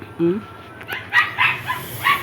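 A pet dog gives one short, sharp bark near the start. Brief voice-like sounds follow at moderate level.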